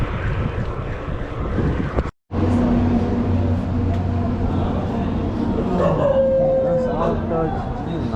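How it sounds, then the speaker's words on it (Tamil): Dogs barking and howling at a passing touring cyclist on a roadside in Tamil Nadu, several yelps and barks mixed with wind and road noise, while someone talks over them. "நாய்ங்களாம் நம்மளை பார்த்து போடுது."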